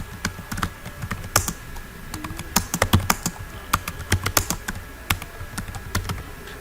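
Typing on a computer keyboard, an irregular run of sharp, close key clicks that comes in quick bursts with brief pauses, alone with no talk.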